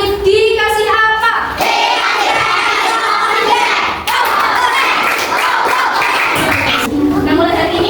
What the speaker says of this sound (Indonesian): kita beri aplaus untuk Nadir